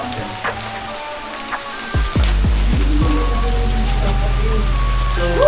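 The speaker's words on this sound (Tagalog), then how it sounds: "Biglang lakas ng ulan" Sudden heavy rain pours down at an abandoned resort swimming pool, starting after a couple of seconds of quieter ambience with scattered drips and a few voices, then becoming a dense, loud, constant downpour.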